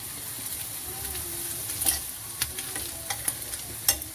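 Onions frying in a pan while being stirred: a soft, steady sizzle with a few sharper scrapes and clicks from the spoon, fairly quiet and without speech.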